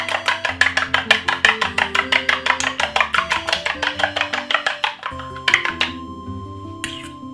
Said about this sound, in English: You can use your teaspoon and beat the egg or a fork.